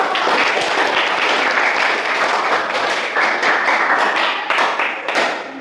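A classroom of students applauds together, dense steady clapping close by that holds for several seconds before tapering off at the end.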